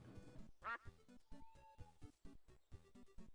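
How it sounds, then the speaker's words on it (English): A duck in the Minecraft video game quacks in a quick series of short nasal calls, fairly quiet and close, with a single tone sounding briefly in the middle. "it was a duck"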